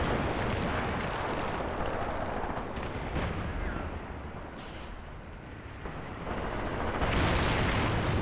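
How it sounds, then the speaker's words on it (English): Hand grenade blasts in the Graviteam Tactics war game boom in a dense, continuous barrage of muffled explosions and distant gunfire, with no voices. "I believe it's just hand grenades for now."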